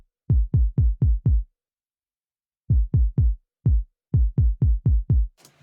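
Ten punchy kick drum hits from a sample, played alone in a group of five, a pause, then two short groups, each thump deep and quick-decaying with a brief click at the very end.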